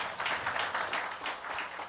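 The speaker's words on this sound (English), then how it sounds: "a round of applause to our silver sponsor" Audience applause at an African lubricants and coolants summit, a steady wash of many hands clapping at moderate, fairly distant level with no voices over it.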